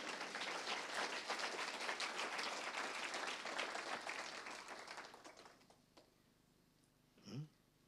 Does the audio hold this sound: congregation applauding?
yes